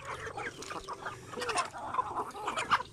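Free-range hens, a mixed flock of DeKalb, Rhode Island Red and other breeds, cluck and murmur softly in a continuous, uneven chorus, fairly close and quiet, without talk.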